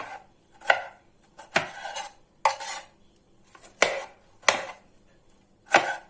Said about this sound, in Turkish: Domateslerimi de küp küp şekilde doğrayacağım.